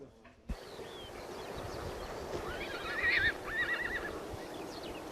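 A Karachai horse gives a loud, wavering whinny after a sudden start, with some rising and falling calls in the middle, over a steady outdoor noise bed.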